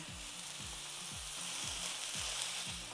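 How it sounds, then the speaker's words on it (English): Ground beef sizzles steadily in hot avocado oil over high heat, a dense, even frying hiss with soft repeated low thumps, close and loud, with no talking. "Once it's hot, add in 1 pound of ground beef and press it down."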